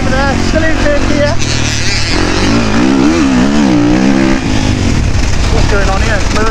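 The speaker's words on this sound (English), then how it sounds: "The bike's still in third gear." Kawasaki KX450 or Yamaha YZF450 motocross bike riding in third gear on a dirt track, a loud continuous engine drone with pitch rising and falling, close and constant, with a voice talking over it.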